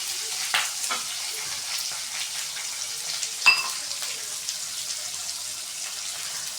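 Chopped tomatoes sautéing in a pan for baby cabbage poriyal give a steady soft sizzle, with a few brief louder stirring clatters scattered through, close and alone.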